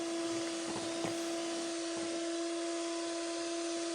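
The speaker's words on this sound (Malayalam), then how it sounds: "അപ്പോൾ നമ്മൾക്കൊന്നുകൂടി ബീറ്റ് ചെയ്യാം." An electric beater whips eggs with powdered sugar and vanilla essence for a vancho cake, giving a steady, close, droning motor whine with faint rattling clicks, no talking.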